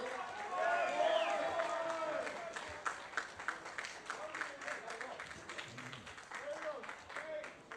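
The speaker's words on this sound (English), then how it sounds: "can I please get a huge round of applause for both teams for putting on a great grand final?" A crowd at a senior grand final between the Coffs Harbour Breakers and Port Macquarie Magpies gives a burst of clapping that peaks early and tapers away, with someone talking over a PA through the applause.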